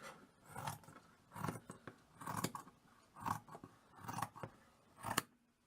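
Scissors snip repeatedly through cushion fabric in a shabby-chic handmade cushion project, six crisp close cuts spaced about a second apart, each with a short rasping slide.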